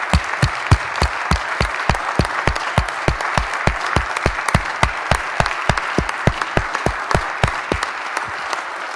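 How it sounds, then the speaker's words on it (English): Members of the Wisconsin State Assembly applaud the legislative technology staff on the floor, a sustained round of clapping with distinct, regular hand claps close by and loud, tapering off near the end. "why don't we give a huge round of applause to the LTSB for the great job that they are doing"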